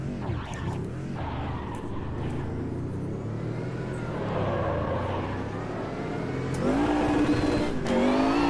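A Sauber C9 race car in a racing game at Spa 1993 roars steadily under load, its engine note rising as the wheels spin, loud and close throughout with no talking.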